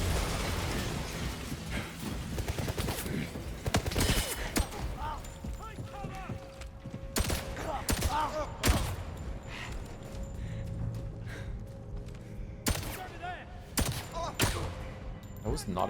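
Rapid gunfire in 007 First Light, with bursts of sharp, close shots scattered through a busy game mix, some clustered and some spaced a second or two apart, with talking over parts of it.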